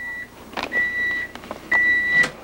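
A kitchen microwave oven hums with a steady electronic whine, broken by a few clunks and clicks, its tone dropping out and resuming, loud and close with no talking.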